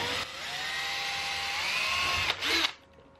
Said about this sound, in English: I'm just going to go ahead and pre-drill a little bit